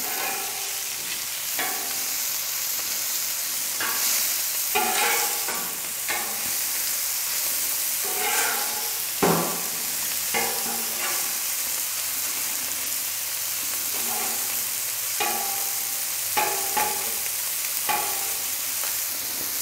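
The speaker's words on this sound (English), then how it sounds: "You see how quick this sausage browns up." Polish sausage and cabbage fry on a Camp Chef FTG600 flat-top griddle, giving a constant loud hiss and sizzle broken by intermittent scraping and clacking from a spatula.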